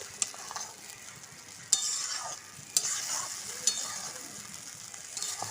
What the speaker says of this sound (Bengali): আমি যে ভালো করে কষিয়ে নেব মশলাটাকে।